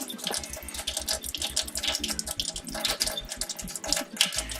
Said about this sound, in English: go over to the sink and just run this under water and see if we get soapy consistency